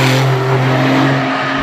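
Race car on the Circuit Paul Ricard picking up speed, a loud, steady engine drone with strong low harmonics held close throughout, no voices.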